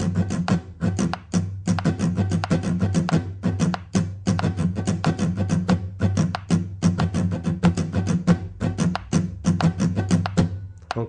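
Guitar strummed in a steady down-up pattern, close and rhythmic with dense percussive strokes and a sustained low tone; metronome clicks are not clearly separable.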